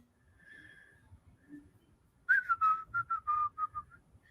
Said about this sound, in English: I should stop whistling because it hurts your ears